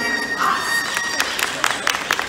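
Audience at an aquarium show clapping and cheering, with children's shouts mixed into a busy crowd roar and a few sharp whoops near the end.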